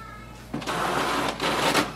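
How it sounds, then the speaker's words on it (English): An Epson WorkForce Pro 3820 printer prints a document, its steady mechanical whir and paper feed running close and moderately loud over a low hum. "I'm going to print a document."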